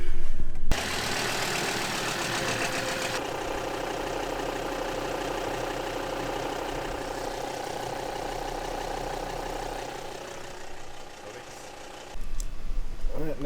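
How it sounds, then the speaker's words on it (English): A sailboat's inboard engine catches and settles into a steady, loud idle with a rhythmic knocking chug that runs for about eleven seconds before cutting back. "And we'll just start the engine and check for leaks."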